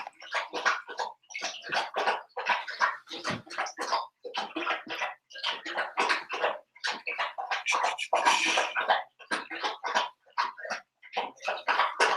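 A pet dunks its head into a large water dish over and over, giving quick bursts of splashing and sloshing in rapid runs with short gaps, close by and moderately quiet.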